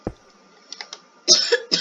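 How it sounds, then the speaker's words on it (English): A person coughs twice in quick succession, close and fairly loud, after a near-silent stretch with a few faint clicks, while recording a Minecraft XP farm build. "sorry, a little bit of a cough there."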